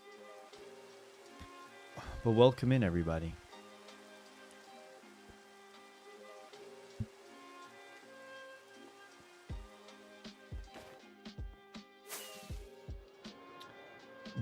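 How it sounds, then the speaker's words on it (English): Steady rain patters softly and continuously in Minecraft, a faint hiss with scattered drop ticks, while someone talks over it and a brief burst of game music or voice rises early on. "It rains the second we start streaming."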